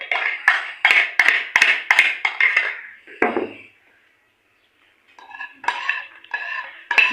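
Grated potato, egg and onion are stirred and scraped in a metal pot, giving rapid rhythmic clinking and scraping strokes, then a short pause and another round of lighter scraping, close and loud with no talking.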